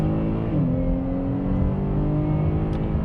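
A 2019 Chevrolet Blazer SUV engine hums steadily as it accelerates uphill, the drone rising slightly in pitch, heard from inside the cabin.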